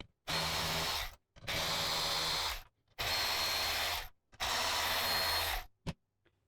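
M8 socket-head cap bolts being run out of a Boulies Master Series gaming chair with a power tool: four loud, close whirring bursts of about a second each, separated by short pauses, with a brief click at the end.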